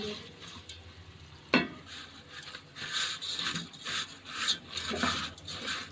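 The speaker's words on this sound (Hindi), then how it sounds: "अब इसके अंदर मैं ये वर्मिसेली ऐड कर दूंगी और इसको मैंने लाइट गोल्डन होने तक फ्राई करना है।" Vermicelli for sheer khurma is fried in oil over slow heat, stirred with a utensil, giving soft scraping and faint sizzling in irregular strokes, with one sharper knock early on.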